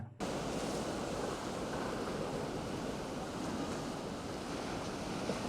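Sea waves wash over a seafront promenade, a continuous loud roar of surf with wind rushing across the microphone.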